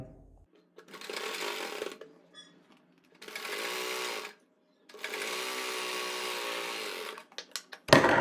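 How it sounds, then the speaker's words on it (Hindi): A sewing machine stitches elastic onto a palazzo in three long whirring runs separated by short pauses, near and steady, with a few clicks and handling noises at the end. "यहाँ पर टाँकी बांधते हुए पूरी सिलाई लगाएंगे"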